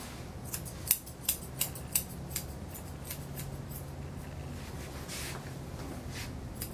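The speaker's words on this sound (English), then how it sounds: "If you need these scissors, these are great." Scissors snip through a senior poodle's hair during grooming, a quick run of sharp, close cuts early on, then quieter snipping over a steady low background hum.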